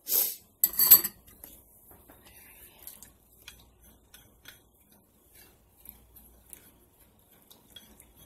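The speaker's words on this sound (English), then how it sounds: "I'm over here trying to break dishes." Dishes and pots clatter in a home kitchen during soup making, with a loud burst of clanks and scrapes at the start, then sparse light ticks and taps of crockery and utensils in an otherwise quiet room.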